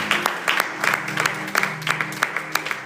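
A church congregation claps together in a quick, fairly regular rhythm, a room full of sharp hand claps heard up close, steady for a few seconds.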